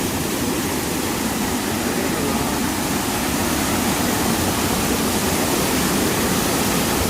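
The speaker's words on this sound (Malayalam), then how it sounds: "ഇത് ഈ പ്രദേശവാസികൾക്ക് മാത്രം അറിയാവുന്ന വെള്ളച്ചാട്ടം" A dense, constant roar of falling water from a rain-swollen village waterfall at Kumbichal Kadavu, Amboori, fills the whole clip, loud and close, with no pauses.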